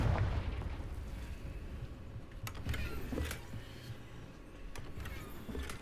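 A Confringo fire-blast spell in the Hogwarts Legacy video game bursts loudly at the start, followed by a run of sharp blasts and crackling impacts over a low rumble of game sound.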